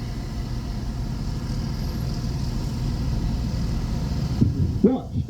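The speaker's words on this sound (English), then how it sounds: "Watch as a pair of our next generation Hunter armored fighting vehicles take up their firing position to destroy all enemies" A pair of Hunter armored fighting vehicles roll into firing position at an army firepower demonstration at Sungei Gedong Camp, a steady low engine rumble at a distance with a couple of brief sharper knocks near the end.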